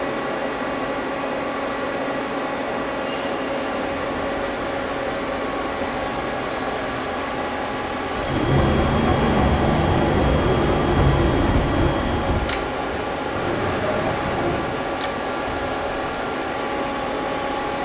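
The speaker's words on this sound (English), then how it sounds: "Let's turn the spindle on" A Mazak CNC lathe spindle turning at 300 RPM gives a steady, fairly loud mechanical hum over a constant machine-shop drone, swelling briefly louder partway through before settling back.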